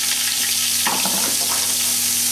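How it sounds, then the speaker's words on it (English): Diced onion and pureed garlic hit a hot pan for a fresh tomato pasta sauce, a loud steady sizzle with a burst of stirring partway through. "We have our diced onion, we have our pureed garlic, they're going into the pan."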